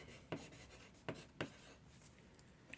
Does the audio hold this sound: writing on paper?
yes